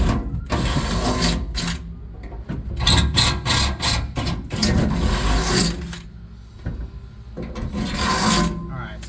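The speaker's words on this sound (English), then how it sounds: "I'm going to show you the finishing process of drilling this stuff out." A power drill grinding through metal spot welds, bored out up to a 3/8-inch hole, in repeated bursts, starting and stopping with short pauses, loud and close.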